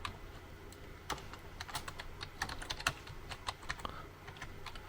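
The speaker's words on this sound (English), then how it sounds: "I'm gonna just type in something to remember" Quiet, close keystrokes on a computer keyboard tap out a password in an irregular run of light clicks over faint room hiss.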